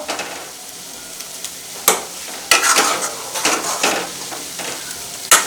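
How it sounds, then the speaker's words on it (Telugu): Ginger garlic paste fries in hot oil for a korameenu fish pickle. A steady sizzle runs under several sharp, loud spoon or spatula scrapes and clanks against the pan, with no voices. "ఇలా ఆయిల్లో వేగుతుంటే అల్లవెల్లిపాయ పేస్ట్ అనేది చాలా మంచి స్మెల్ వస్తుందనమాట"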